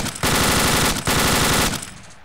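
Machine gun suppressive fire in Arma 2, two long rapid automatic bursts, loud and close, with a brief gap between them.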